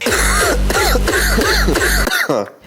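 A run of five or six harsh throat-clearing coughs in quick, regular succession, close and loud, trailing off into quiet at the end.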